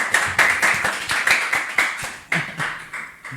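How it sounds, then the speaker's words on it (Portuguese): A small audience at a talk on J.R.R. Tolkien claps to welcome a guest, producing close, distinct hand claps in a loose, uneven rhythm rather than a dense roar, continuing for a few seconds. "Uma salva de palmas!"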